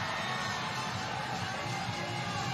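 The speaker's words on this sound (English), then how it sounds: "the crowd cheering him here" A crowd at a lead climbing world championship final in Seoul cheers a climber, a dense, sustained roar of voices and whoops throughout the short stretch.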